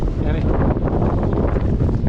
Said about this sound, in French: vous savez ce que c'est que le vent? Est-ce que vous savez ce que c'est? Alors, ok, je vous montre.